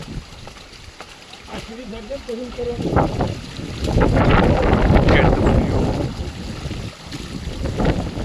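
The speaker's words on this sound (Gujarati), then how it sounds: "પવન એટલો છે ને જે માણસો ઊભા બી નહીં રહી શકતા" Strong monsoon wind buffets the microphone on Girnar mountain in gusty, roaring surges that rise and fall, with people talking beneath it.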